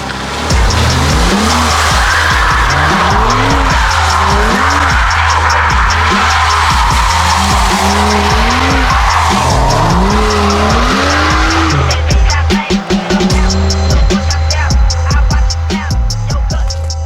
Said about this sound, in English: you just witnessed my very first baby steps in drifting